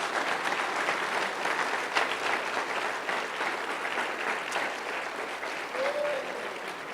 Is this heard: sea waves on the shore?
no